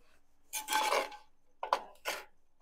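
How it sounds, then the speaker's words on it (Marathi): A pan of jaggery being stirred until it melts, for beetroot gharya: three separate bursts of scraping and rasping from the utensil against the pan, close and moderately loud, with quiet gaps between them and no talking. "इथं आता आपण हे गूळ विरघळूपर्यंत एकसारखं हलवून घेऊयात"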